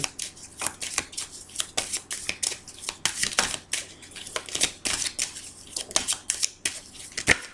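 Tarot cards shuffled by hand for a love reading, a steady run of crisp riffling and slapping bursts, close and fairly loud, with no talking over it.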